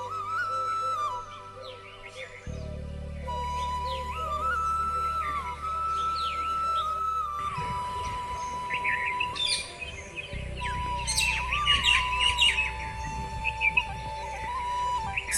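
Several small birds chirp and whistle in quick, bright calls over a steady low hum, with lively overlapping song across a monsoon-season outdoor scene, loud and fairly near throughout.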